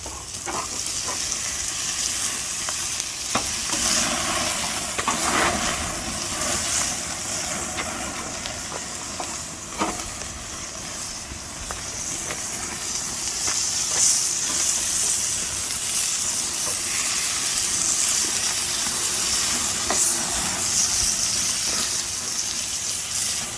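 Sloppy joe meat patties sizzling on a char-grill before being broken up in a cast iron skillet, a steady bright hissing sizzle with crackles and pops running the whole time, close and loud, with no talking.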